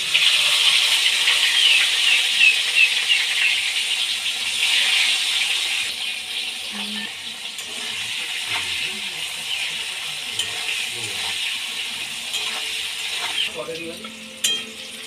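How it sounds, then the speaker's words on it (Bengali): Bitter gourd slices fry in refined oil in a wok, a loud steady sizzle that runs throughout, with occasional stirring scrapes and light clatter. "এবার ওই তেলের মধ্যে উচ্ছেগুলো ভেজে নেব।"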